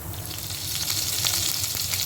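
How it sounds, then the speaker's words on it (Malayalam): Coconut oil sizzles in a hot pan while a Kerala-style fish curry is being cooked, giving a soft continuous hiss dotted with small crackles and pops, fairly quiet and with no voices over it. "ചട്ടി ചൂടായി കഴിഞ്ഞാൽ 1 സ്പൂൺ വെളിച്ചെണ്ണ ഒഴിക്കും."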